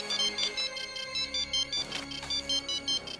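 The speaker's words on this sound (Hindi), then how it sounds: "आपका फोन आ गया" A phone rings for an incoming call, playing a loud, close, repeating electronic ringtone of steady rhythmic pulses with a melodic tone for over three seconds, no talking over it.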